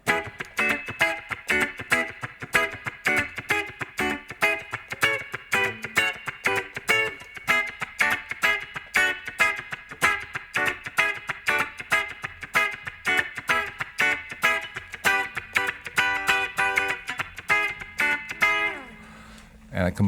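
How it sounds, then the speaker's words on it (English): Country-flavoured rhythm guitar part played alongside a guitar skank, a busy stream of bright, evenly spaced plucked strums with a slightly distorted edge, steady and upfront for about twenty seconds before cutting off briefly near the end. "I came up with another guitar part that kind of gave it a little bit of a country feel that went along with the guitar skank"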